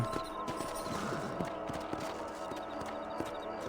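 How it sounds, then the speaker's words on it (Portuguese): Horse hooves clip-clopping in the video game Red Dead Redemption on PC, an uneven series of light thuds under a droning musical and ambient bed, moderately loud, with no speech. "O cavalo já tá aqui, ó."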